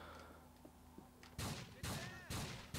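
Gunfire from the video game GTA IV: four loud, sharp shots in irregular succession, each with a short ringing tail, following a stretch of quieter game ambience with faint clicks.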